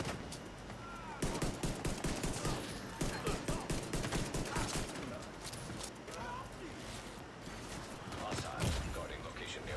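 Automated turret in The Division 2 firing a rapid, regular stream of sharp shots, a rattling burst that keeps pulsing close and loud throughout, with someone talking over it.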